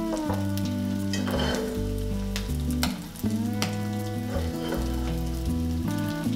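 Tuna cakes fry in a pan with a steady, close crackling sizzle. Bright pops and spatters break through the sizzle, and there is a brief dip partway through.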